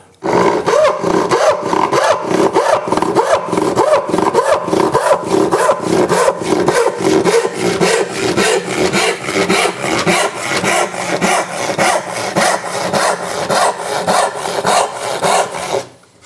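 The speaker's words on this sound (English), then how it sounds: "Let's see if we can get a cut that's a little bit straighter." A freshly sharpened hand rip saw cuts through wood in loud, even back-and-forth strokes, roughly two per second, rasping steadily close by until the cut stops at the end.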